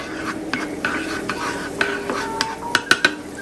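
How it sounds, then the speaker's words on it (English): Half a tablespoon of butter is stirred around a hot pan with a metal utensil, giving soft scraping and a series of sharp clinks against the pan that grow louder toward the end, with no voices. "Give it a little stir around the pan."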